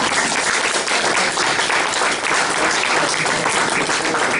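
Applause fills a town hall meeting, a steady, dense clapping from a roomful of people that carries on evenly throughout, close and loud.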